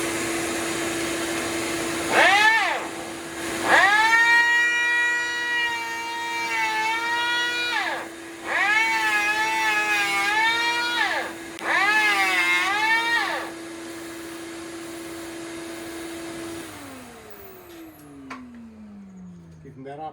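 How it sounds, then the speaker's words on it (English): An electric hand planer takes a shallow pass over a clamped piece of olive wood, whining in three long loud bursts with a steady motor hum beneath, then spinning down as the blade slows; close up, no talking. "I'll start out by taking off about a 64th of an inch using this hand planer."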